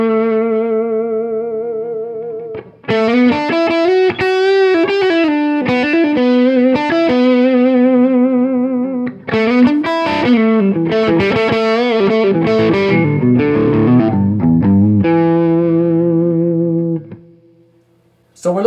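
An electric guitar plays through the humbucker neck pickup into heavy distortion. It sounds loud and sustained, with chords and single notes ringing out, before the sound drops away near the end.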